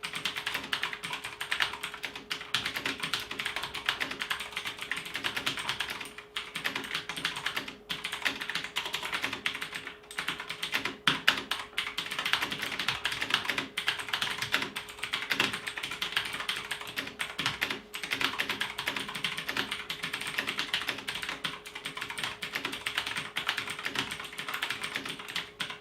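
Continuous fast typing on a Marvo KG965G mechanical gaming keyboard, a dense stream of close, crisp key clicks and clacks with steady rhythm and no voices.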